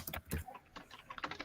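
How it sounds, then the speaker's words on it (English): Rapid typing on a computer keyboard, a quick irregular burst of close clicking keystrokes, fairly faint and alone. "Sorry for the typing"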